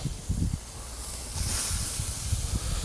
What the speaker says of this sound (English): Beautiful sizzle.